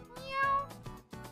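A cat meow sound effect from the video game Plants vs. Zombies, voiced as a frog imitating a cat: several close, tonal meows with a drawn-out middle cry and short calls after it.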